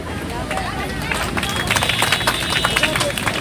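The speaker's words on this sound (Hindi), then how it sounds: "तो एक बार उनके लिए बहुत जोर से तालियां" Crowd clapping outdoors at a cleanliness event on the Yamuna ghat at Kalindi Kunj, Delhi, a dense patter of many hands over a busy murmur of voices and nearby speech.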